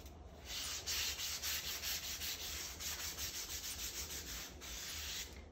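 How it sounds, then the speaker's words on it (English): A handheld sander smooths the cut edges of craft foam in a cosplay foamsmithing workshop, giving a steady, close abrasive rasping with rhythmic strokes that runs continuously for several seconds, no talking. "With your sander"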